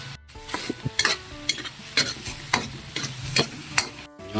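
Green beans and squid sizzle and bubble in a pan of Filipino adobong sitaw while a utensil scrapes and stirs in repeated strokes, close and fairly loud.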